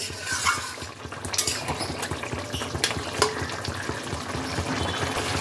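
Tilapia fish bubble in a thick curry gravy with ginger and fennel paste, giving a busy, close, steady bubbling and sizzling with faint utensil clinks as the pieces are turned.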